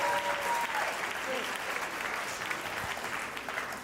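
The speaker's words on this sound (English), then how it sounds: "quick round of applause for that." Wedding guests applaud at a reception, a steady round of clapping that stays fairly even throughout, with a brief faint tone in the background.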